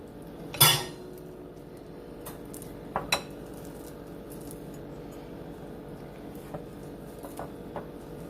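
Chocolate chip scone dough made with Bisquick being mixed in a bowl: a sharp clatter of utensil on the bowl, then a few clinks and soft scraping taps over a quiet background.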